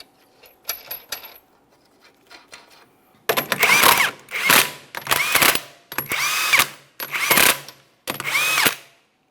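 An impact gun spinning 21mm lug nuts on the rear wheel of a 2008-2017 Mitsubishi Lancer, five loud close bursts of rattling hammering after a few faint clicks and clinks.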